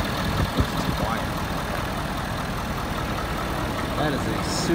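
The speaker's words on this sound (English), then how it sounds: "That is a super quiet truck." A 2013 Ford F250 pickup truck engine idles in a steady, low, quiet hum that stays even throughout, with a few faint knocks near the start.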